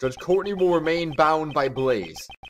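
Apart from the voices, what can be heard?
No everyday noises stand out.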